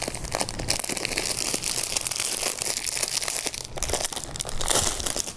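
The plastic bags of a Lego Ninjago Lloyd's Titan Mech set (70676) are handled up close, giving a continuous loud crinkling and rustling with sharp crackles throughout.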